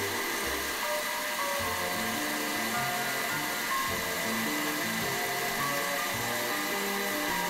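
Electric mixer whipping lemon ice box pie filling with sugar, a steady close motor whir holding one even level throughout with no break.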